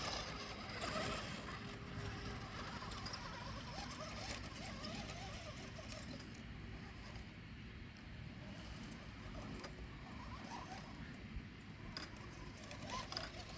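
A vintage 1989 RC car drives off-road in low gear, giving a continuous faint whirring, grinding motor drone over rough ground, with small rattles and clicks scattered throughout and no clear talking.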